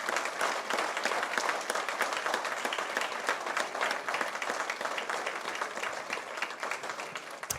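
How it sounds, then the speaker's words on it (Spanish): A church congregation claps during a Sunday sermon, giving steady, dense applause that holds at an even level throughout without thinning out. "Démosle un aplauso al Señor"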